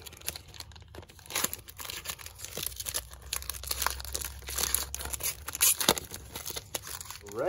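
A plastic trading card pack wrapper being cut and crinkled open, with close, soft crackling and tearing in irregular bursts and a low background hum.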